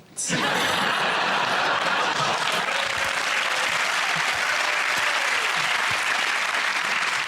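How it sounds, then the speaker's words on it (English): A studio audience bursts into loud, sustained applause for a comedy panel show, dense clapping that fills the room, mixed with a few chuckles and laughs. "One of the largest spontaneous and heartfelt applause we've had."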